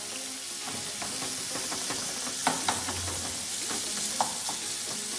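Meat sizzles steadily in a hot pan for taco filling, with a continuous crackling hiss and occasional scrapes and clacks of stirring, close and unaccompanied by talk.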